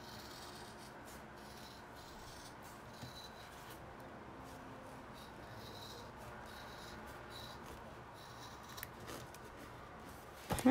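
Scissors cut and rub through fabric during sewing work, a faint, steady scraping and snipping that runs for several seconds close by, with a sharper clatter at the end and no speech.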